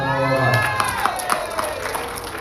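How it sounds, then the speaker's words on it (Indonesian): An audience of men in Padang claps and cheers, a busy crowd roar with shouts and scattered claps, fairly close and lively throughout. "Tepuk tangan dong."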